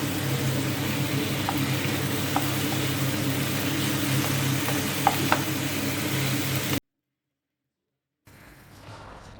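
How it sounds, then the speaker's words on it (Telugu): Tomatoes fry for pav bhaji in a pan with a steady, dense sizzle and a few small pops. The sound cuts out abruptly for over a second, then the sizzle resumes more softly. "నెక్స్ట్ టమాటోస్ యాడ్ చేసుకొని ఫ్రై అయ్యే వరకు వెయిట్ చేయాలి."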